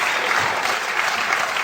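Audience applause fills a hall at the St Albans Retailer of the Year awards, a steady dense clapping from a large crowd, loud and continuous with no voices over it.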